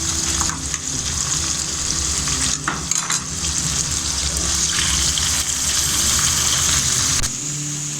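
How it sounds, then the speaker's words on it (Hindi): Loud, steady sizzling and crackling of chicken frying with garlic ginger paste in a hot pan for karahi, with occasional stirring scrapes, no talking. "हल्का सा इसको मैंने फ्राई कर दिया गोश्त को"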